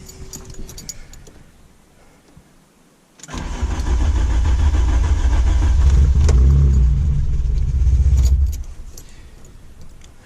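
First start of a Volkswagen Golf 2 GTI 16V engine after quiet clicks and key jangles: a cranking catch, then a loud, close, steady low idle for about five seconds before it cuts off.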